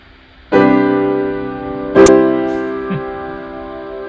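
Piano chords of a perfect cadence: a struck chord rings and decays, a second chord follows, then a faint brief note, each resonating alone.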